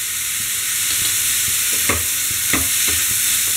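Vegetables with salt and red chili powder sizzle steadily in a hot pan for vegetable momo filling, with a few soft scraping stirs of a spoon over the constant frying hiss.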